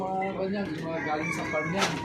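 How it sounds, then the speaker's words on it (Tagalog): Chickens cluck and crow nearby amid a noisy background, with a voice speaking over them. "May mga manok po."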